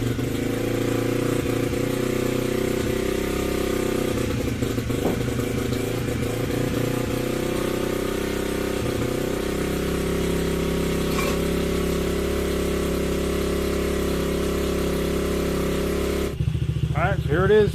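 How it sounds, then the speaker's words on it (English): A Honda CRF50 dirt bike engine runs close by in a steady idle, its buzzing tone shifting slightly partway through, with someone speaking over it. "So here it is. Idling just fine. Running like a champ."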